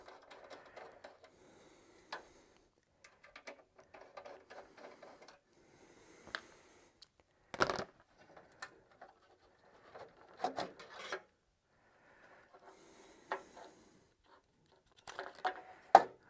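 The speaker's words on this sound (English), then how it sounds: "we'll get these flathead screws out of here" A screwdriver backs flathead screws out of a controller card in an IBM 5150 computer. Quiet, sporadic rasping and small ticking scrapes come in short clusters separated by near silence, with one sharper knock partway through.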